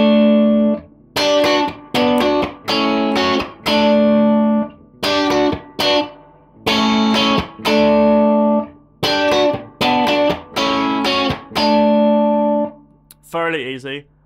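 A clean Fender Stratocaster electric guitar through spring reverb on a Tone King Imperial amplifier plays a song intro, with strummed chords in a steady rhythm and brief gaps between phrases, close and alone.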